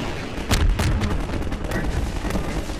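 Half-Life 2 gunfire rings out in a burst of sharp, loud shots, with a couple of heavy cracks followed by lighter repeated firing amid game noise.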